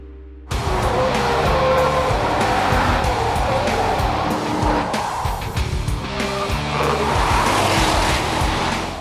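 Porsche Cayenne Turbo S on Dunlop SP Quattro Maxx tyres accelerating hard on the Nordschleife, a loud continuous engine roar with tyre squeal and shifting pitch that starts abruptly and holds steady, close and dominant throughout.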